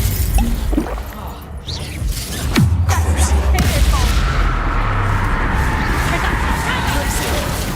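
Loud booming blasts from the Confringo fire spell in the video game Hogwarts Legacy, a heavy explosion followed by a sustained rumbling roar amid game sound effects and music.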